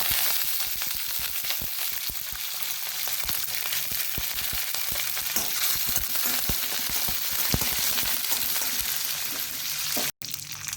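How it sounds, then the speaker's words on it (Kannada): Mustard seeds splutter and pop in hot oil along with urad and chana dal for a spinach and green gram sukka, a loud, continuous crackling sizzle dotted with sharp pops that runs the whole time, with one brief dropout near the end. "ಸಾಸಿವೆ ಹೊಡೆಯುವಾಗ ಉದ್ದಿನ ಬೇಳೆ ಮತ್ತು ಕಡಲೆಬೇಳೆ ಸ್ವಲ್ಪ ಹಾಕೊಳ್ಳೋಣ"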